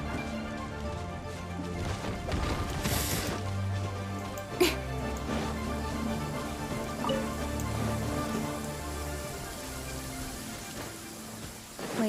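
Steady rain pours down in a Genshin Impact scene, a dense constant patter with one sharp knock partway through, and no voices.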